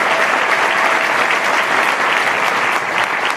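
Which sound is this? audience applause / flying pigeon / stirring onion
audience applause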